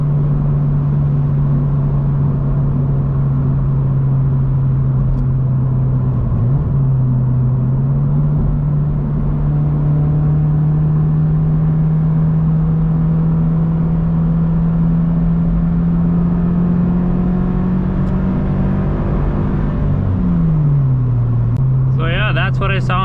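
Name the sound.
sports car exhaust accelerating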